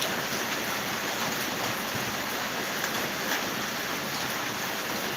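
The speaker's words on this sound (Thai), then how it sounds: "เพราะฝนตกอยู่ตอนนี้" Rain falling steadily outdoors, a constant even hiss of droplets with no breaks or voices.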